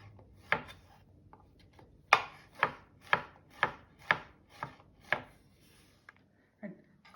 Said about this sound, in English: cut the mushroom in half